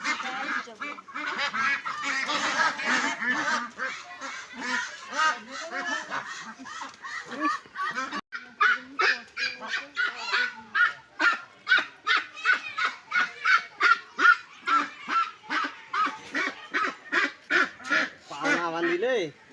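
Ducks brought to a village market for sale give loud, rapid quacking and honking calls in a dense, rhythmic run, close by, with voices talking faintly underneath.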